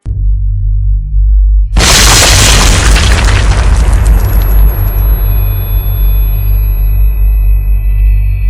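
The fourth reactor of the Chernobyl nuclear power plant explodes: after a low rumbling lead-in, a sudden massive boom bursts out and then decays into a long, heavy rumble with a faint ringing tone.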